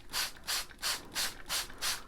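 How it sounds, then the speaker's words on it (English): Rhythmic scrubbing strokes cleaning a clay pot, six even back-and-forth rubs at a steady pace, close and clear with no talking. "Clean off the pot."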